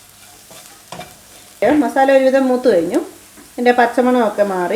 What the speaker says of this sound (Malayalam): ചെറിയ തീയിലിട്ട് മസാല മൂപ്പിച്ചെടുക്കുക